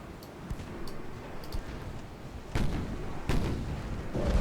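Torpedo hits exploding in a Japanese naval campaign video game, heard as a few heavy booming blasts over a steady rumbling battle background.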